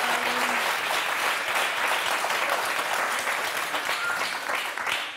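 A studio audience on the French game show Motus applauds two contestants with sustained, dense clapping throughout.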